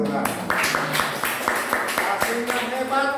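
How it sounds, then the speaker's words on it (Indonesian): A church congregation claps in a steady rhythm of about two beats per second while voices sing and talk over it. "Tepuk tangan untuk Tuhan."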